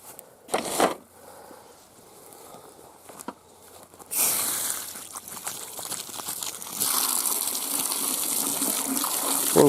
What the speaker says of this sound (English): Got my hose turned on.